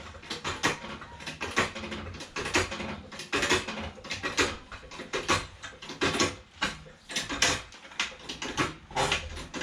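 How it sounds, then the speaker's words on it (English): A car jack being worked under a 2007 VW Beetle, giving a steady run of close, sharp metallic clicks and ratchet strokes in an even rhythm, with no talking. "So, jam the jack in."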